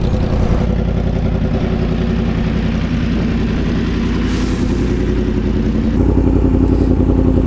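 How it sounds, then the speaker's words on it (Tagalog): A Yamaha MT-10 motorcycle engine idles loudly and close, a steady deep rumble with mechanical clatter and a slight lift in pitch toward the end, with no talk. "MT-10, Yamaha MT-10 lang ang malakas."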